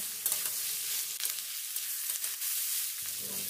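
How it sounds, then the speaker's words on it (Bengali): Softened beet and carrot sizzle in a wok with a constant bright frying hiss. Quick scrapes and clatters from the stirring break through it now and then. "এবার এটাকে আর একটু নেড়ে চেড়ে নিতে হবে।"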